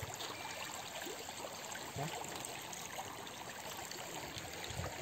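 A mountain stream flows during a trek crossing in Assam's hills near Nakkati Hill, a steady, moderately faint rush and trickle of water that continues without a break and with no voices.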